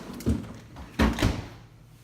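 Refrigerator drawer sliding open and bumping, two or three close thuds and rattles in a kitchen, with no talking.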